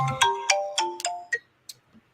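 A phone ringtone plays nearby, a bright melodic run of about six chiming notes that fades out after a couple of seconds, with no talking over it.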